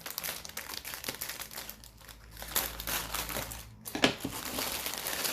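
Mini Christmas trees being cut out of their plastic packaging: continuous close crinkling and crackling of plastic with a few sharper snips and rustles, fairly quiet and with no talk.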